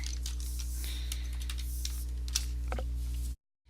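A policy number typed on a computer keyboard, with rapid uneven key clicks over a steady low electrical hum that cuts off abruptly at the end.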